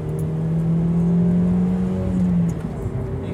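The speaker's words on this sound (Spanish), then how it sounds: "Y no le estoy pisando mucho el acelerador" A 2012 Suzuki SX-4 car engine revving under acceleration, a steady loud drone that rises slightly in pitch for about two and a half seconds, then eases off, with road and wind rumble underneath.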